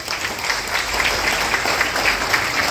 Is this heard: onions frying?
no